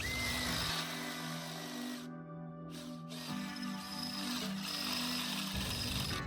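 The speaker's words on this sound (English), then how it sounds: "we're going to run the drill bit right through the hole just to open it up." A power drill whines steadily as it bores through a metal hole on a Club Car Tempo golf cart, its motor pitch shifting and briefly dropping out before grinding on, close and loud.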